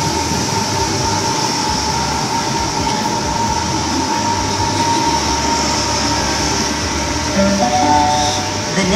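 Sydney Trains passenger train pulling into Waterfall station, a loud continuous rumble and rail roar with steady whining tones and rising squeal near the end, heard up close.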